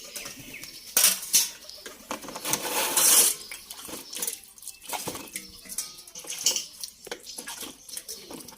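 Dishes being washed by hand in a home kitchen, with irregular clinks and clatters of utensils and plates over splashing running water, loudest in bursts early on, no talk.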